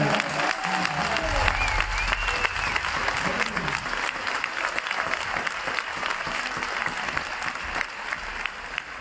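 A concert crowd in an arena applauds continuously, a thick wash of clapping with some crowd voices and a low musical rumble beneath, holding steady throughout.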